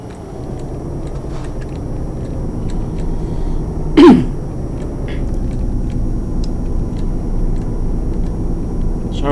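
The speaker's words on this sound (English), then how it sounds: "It's just a slight cough." A single short cough at a driving simulator setup, one sharp burst standing out above a steady low engine and road hum from the Euro Truck Simulator 2 truck.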